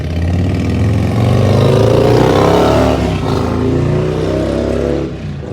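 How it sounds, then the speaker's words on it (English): Neighbor's motorbike going by a house, a loud steady engine drone whose pitch rises and falls as it passes close, then fades out at the end. "Had to wait on my neighbor to go by on his bike."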